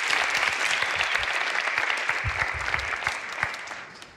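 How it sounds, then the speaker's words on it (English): Audience applause at a talk event, a dense burst of steady clapping from a crowd that slowly fades over a few seconds. "An applause to Luis, please."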